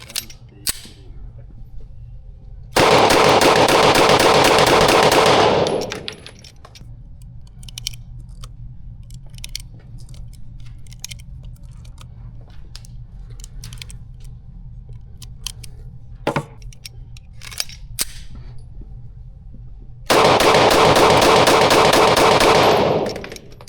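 Pistol test firing sounds as two long, loud bursts of rapid shots, each lasting about three seconds and spaced well apart. Scattered sharp clicks and small knocks fill the quieter stretch between them.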